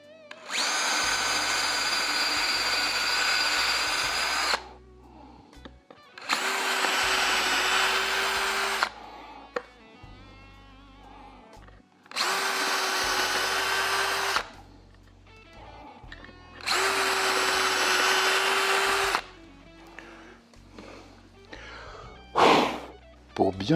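A power drill bores a 5 mm hole during assembly of a Gibson SG guitar, sounding four separate loud whirring bursts of several seconds each, with quiet handling noises and breaths in the gaps.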